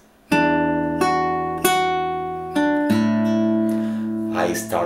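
Fingerstyle acoustic guitar plays measure 18 of a Toy Story 2 ballad: a handful of plucked chords and single notes, each left to ring and overlap, close and clear, unaccompanied.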